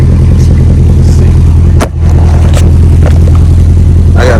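The engine of a Dodge Durango RT with a homemade extended exhaust rumbles loud and close, a steady deep idle with a short dip and a rev, scattered clanks and rattles above it.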